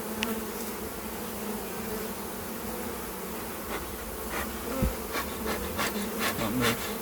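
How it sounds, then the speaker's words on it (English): Honey bees swarm loudly around an open hive during a full inspection, a dense, continuous buzz close by, with a few faint knocks and clicks from handling the frames. "I'm trying not to harm the bees, but there's a lot of bees,"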